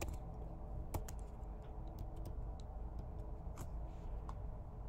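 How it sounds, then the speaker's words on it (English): Typing an employee number on a computer keyboard, a few faint, scattered key taps at a distance over a low, steady room hum, with no voices. "I'll type in the employee's number."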